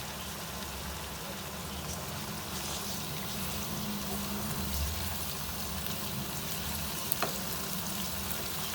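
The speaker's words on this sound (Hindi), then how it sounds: "अब हम इसमें दही शामिल कर देते हैं। इसको भून लेते हैं अच्छी तरह।" Chopped bottle gourd with yogurt fries in a pan, giving a steady, even sizzle and crackle that holds throughout, with a faint clink near the end.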